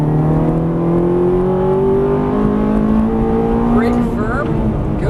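A Ferrari 430 on a race track accelerates hard, its loud engine note climbing steadily in pitch through a gear, close and continuous.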